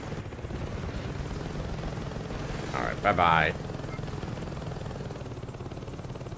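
A Saints Row 2 video game helicopter drones continuously in a steady rotor wash, with a brief burst of a sharper game effect midway and a short spoken line over it.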